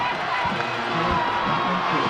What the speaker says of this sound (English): The Georgetown crowd getting going.